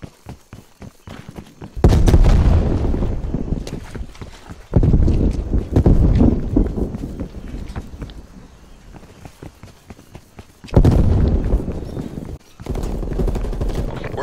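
Call of Duty Black Ops Cold War team deathmatch on the Cartel map, with loud booming bursts and heavy rumbling blasts recurring across the stretch, mixed with gunfire and game noise.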